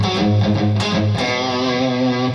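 Distorted electric guitar playing a lick, with sustained harmonic notes and a few quick attacks, loud and alone with no talking.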